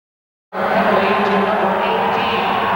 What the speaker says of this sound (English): The crowd is pleased with that call.